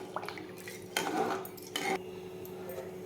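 Rice mixture with salt being stirred in a pot in a home kitchen, faint metallic scraping and clinks of a spoon against the pot in a few short bursts over a quiet steady hum.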